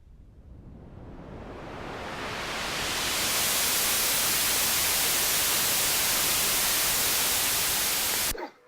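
Synth noise with its filter cutoff sweeping quickly from low to high, rising from a dull hiss to a bright, loud wash over about three seconds, holding there, then cutting off abruptly.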